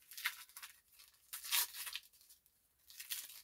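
A Pokemon card mystery pack is torn open in three quick, crisp ripping bursts of foil packaging heard close up.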